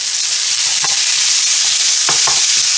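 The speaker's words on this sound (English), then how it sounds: "we're just going to fry off the onions and the meat" Onions and meat fry in a pan with a loud, continuous close-up sizzle, broken by a few clinks and scrapes of stirring, and no talk.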